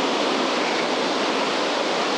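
A waterfall in Albania gives a constant broadband rush of falling water, steady and fairly loud, with no voices over it.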